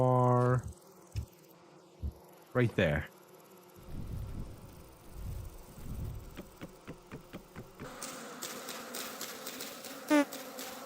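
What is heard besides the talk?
bees buzzing in Vintage Story video game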